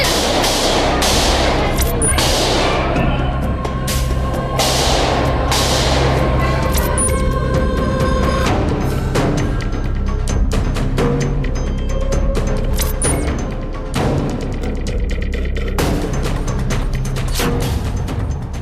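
Rapid bursts of gunfire from a shootout at Rohini Court in Delhi crackle over a dense, noisy backdrop of commotion, sharp cracks repeating irregularly throughout.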